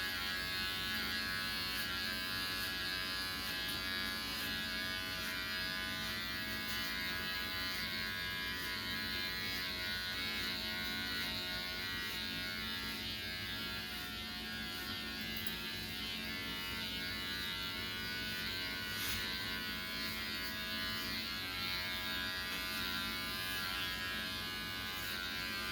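Electric hair clippers with a 1.5 guard cut hair during a home haircut, giving a steady, close, continuous buzz that holds at an even level throughout with no talking.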